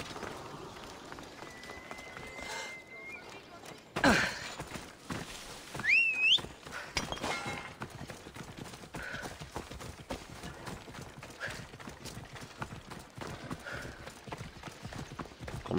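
Horse hooves clip-clopping at a steady run in Assassin's Creed Odyssey, rhythmic and fairly close, with a brief louder burst partway through and light game ambience underneath.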